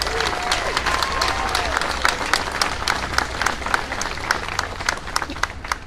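Audience applause at a bill signing ceremony for an animal-abuse law: a crowd clapping with distinct sharp claps, fairly close, gradually thinning into scattered individual claps.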